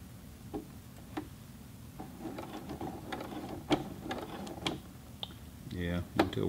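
A Juki G210 sewing machine works through a heavy denim jeans leg hem, giving irregular mechanical ticks and clunks as it climbs the thick seam, with a voice speaking at times.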